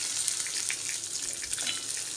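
Chopped shallots and garlic cloves hitting a hot oiled pan for moringa leaf chutney, giving a steady close sizzle with fine crackling and no talking.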